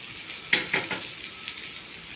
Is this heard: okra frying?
yes